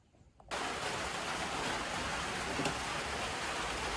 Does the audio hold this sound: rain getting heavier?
yes